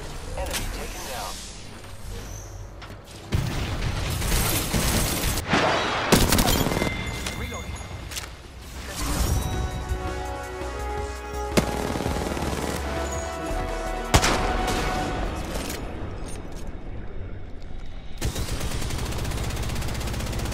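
Gunfire from the Apex Legends video game, including Kraber sniper and R-99 weapons, cracks in repeated bursts and single shots among game sound effects, with a character voice talking over parts of it.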